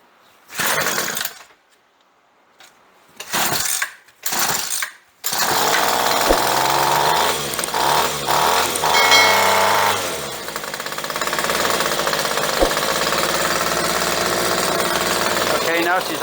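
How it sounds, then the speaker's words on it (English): A Ryobi weed eater's small two-stroke engine is pull-started after a carburetor diaphragm repair: several short rope-pull bursts, then the engine catches and runs loudly and steadily, close by in a workshop. "Now let's give her a pull."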